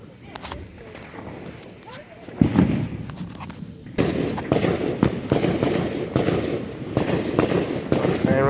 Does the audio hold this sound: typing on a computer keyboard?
no